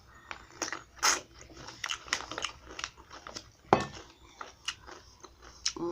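Dill pickle bitten and chewed close to the mic, wet crunchy snaps followed by a string of moist chewing crunches, loud and irregular, with no talking.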